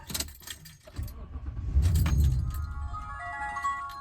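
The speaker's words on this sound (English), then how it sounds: "Usually when my battery is disconnected on this vehicle, it takes a couple shots before it'll start" A 2014 Toyota Tundra with 122k miles, battery recently disconnected, cranks and fires up, a short burst of cranking that rises into a rumbling idle, with some metallic clinks at the start.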